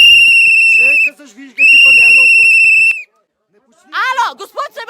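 Loud, shrill whistling like a fan at a Crvena zvezda versus Partizan football derby: two long sustained piercing blasts with warbling tones, then a pause and a burst of excited voices or shouting.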